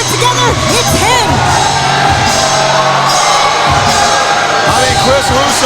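A large live wrestling show crowd cheers and roars steadily throughout, with whoops and shouts rising over a dense, loud wall of voices.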